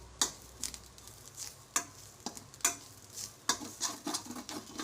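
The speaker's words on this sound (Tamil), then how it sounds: "அடுத்து அந்த சட்டியில் ஒரு கப்பு தேங்காய், திருவி வச்ச தேங்காய் போட்டு நல்லா வதக்கிக்கோங்க." Grated coconut sautéed in a pan, with a scraping spoon stirring and tossing in irregular strokes over a faint steady sizzle, quiet and close, no talk.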